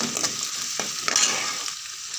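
Shallots sautéing in a hot pan for a mackerel fish curry, a steady bright sizzle broken by a few sharp scraping stirs of the spoon, close and continuous with no voices.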